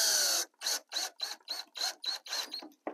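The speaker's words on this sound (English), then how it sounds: "Going through my jar of recycled drywall screws." Recycled drywall screws being stirred around in a jar make a quick series of about eight short metallic rattling clinks in steady rhythm, close and distinct. A longer scrape comes first.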